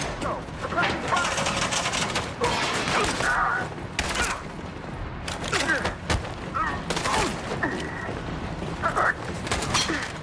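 Gunfire in the video game Detroit: Become Human, dense bursts of shots and crackling fire mixed with mechanical clatter, continuing under shouted voices throughout.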